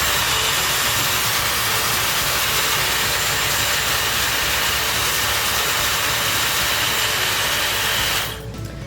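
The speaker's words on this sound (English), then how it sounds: "And then turn it on and it'll blow it all the way through." A Dyson blow dryer forces a steady, loud rush of air through hair extensions, a constant broadband whoosh that holds for about eight seconds and then cuts off abruptly.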